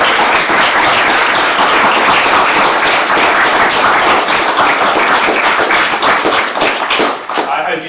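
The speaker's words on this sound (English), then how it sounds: "Can we have a massive round of applause for" An audience gives a big round of applause for author Nikesh Shukla: loud, dense clapping sustained for several seconds before thinning out at the end.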